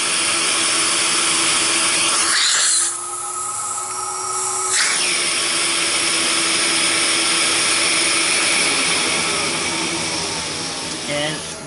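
A 1970s Electra C9 compact canister vacuum cleaner motor whines loudly and continuously at close range, its pitch shifting briefly as the suction changes partway through a water lift test.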